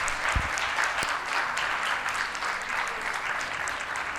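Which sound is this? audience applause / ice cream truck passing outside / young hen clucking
audience applause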